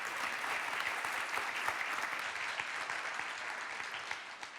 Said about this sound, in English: please give a warm round of applause for our panelists here